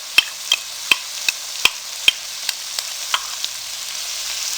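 Chana chaat ingredients with chili sauce fry on a low flame, with a soft steady sizzle under a series of sharp, evenly spaced taps and scrapes of a spatula against the pan, heard up close.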